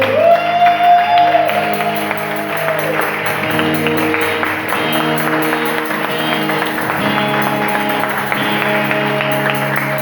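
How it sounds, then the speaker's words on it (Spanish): Church congregation applauding loudly for the Lord, a thick continuous wash of clapping and a few whoops over sustained organ or keyboard chords, filling the room for the full stretch. "Den un fuerte aplauso al Señor"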